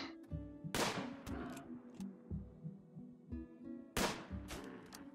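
Gunfire in the video game RimWorld during a tribal fight, several sharp shots with gaps between them, plus a clustered burst near the end, loud and close.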